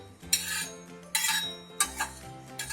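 Coriander seeds dry-roasted without oil in a pan while making grape chutney: a spoon scrapes and clinks against the pan in three or four distinct strokes, close and fairly quiet, with no talk.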